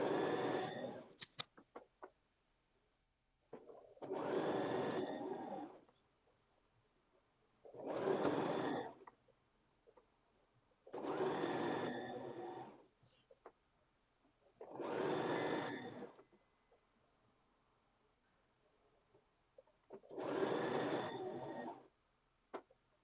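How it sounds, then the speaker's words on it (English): A sewing machine stitches a shirt collar in six separate bursts of steady mechanical whirring, each lasting about two seconds, with quiet pauses between them. "Push it in, place this on top, and just sew it."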